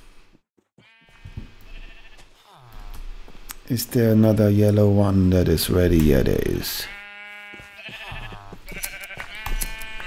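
Sheep in Minecraft bleating in a few drawn-out wavering calls, one long and loud in the middle, with a person talking softly around them.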